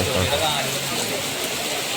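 Steady heavy rain roars with gusting wind over deep water while fishing in Kuttanad, Alappuzha, Kerala, a dense continuous wash of noise close by.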